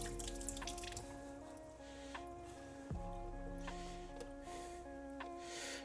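A tap runs water into a sink after the final rinse of home film developing, with repeated drips and splashes and a brief squeaky handle turn partway through, fairly quiet and close.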